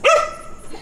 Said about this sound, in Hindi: नीतू तो तुम्हें देख के कुत्ते क्यों भौंक रहे हैं